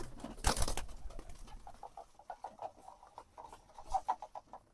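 Sirazi pigeons feed indoors in a loft, with a burst of wing flapping early on followed by a run of soft, rhythmic cooing and pecking sounds, close and fairly quiet.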